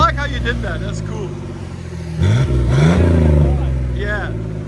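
A 1992 Chevy S10 pickup with a 4.3L V6 and a Flowmaster Super 10 exhaust idles with a deep rumble, then revs up loud and settles back, close by with people talking.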